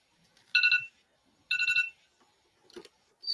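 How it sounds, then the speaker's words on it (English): A phone alarm set as a medication reminder chimes in two short bursts of bright electronic tones about a second apart, moderately loud, followed by faint rustling and a brief clack, with no talking. "that's the alarm of my meds"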